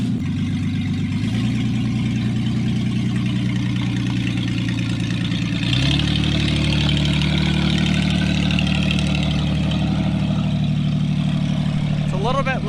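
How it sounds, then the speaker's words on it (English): An abandoned Ford Aerostar minivan, revived after sitting fifteen years, idles loudly with no exhaust fitted, a steady rough drone close by that steps up slightly in pitch and volume partway through. "It's a little bit loud without an exhaust."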